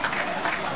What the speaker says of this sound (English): sporting round of applause from the Argyle fans